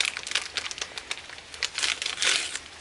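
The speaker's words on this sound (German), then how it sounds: "Und nun machen wir erst die Tüte auf." Plastic packaging crinkles and rustles up close in quick, irregular bursts as a food pouch is pulled open.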